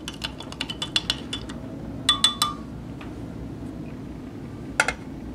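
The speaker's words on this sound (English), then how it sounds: "Give that a stir as well." Light metal spoon clinks against the side of a cup while a drink from a Spanish MRE is stirred, a quick run of taps, then a short burst, then one last isolated tap, close and fairly crisp.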